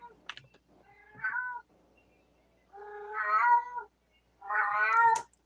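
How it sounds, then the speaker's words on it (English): A small cat meows several times, drawn-out and fairly close, with soft clicks and faint rustling between the calls; no one speaks. "Quiet, little cat."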